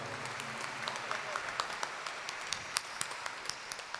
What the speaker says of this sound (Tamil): கைத்தட்டி அன்போடு வரவேற்போம்